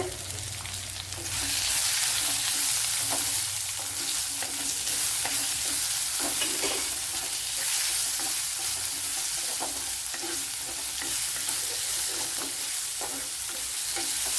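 Chopped onion frying in oil in a pan while cooking a jackfruit dish, a loud, continuous close sizzle with occasional stirring scrapes and no talking.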